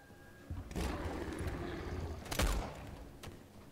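A burst of distant gunfire in the video game Nether rolls out, followed by a sharper, louder shot and a fainter one, over a dull background rumble.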